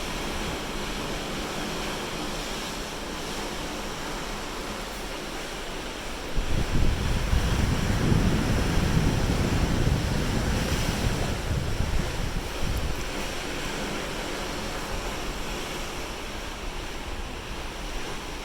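Atlantic Ocean waves wash continuously beneath a cruise ship, with steady wind noise buffeting the microphone and a louder surge of surf midway through.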